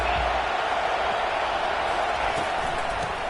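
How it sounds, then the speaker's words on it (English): Stadium crowd at a Georgia Tech football game roaring a welcome to the visitors, a dense, steady wash of noise holding loud and continuous throughout. "This crowd bringing an ear-splitting welcome to their visitors"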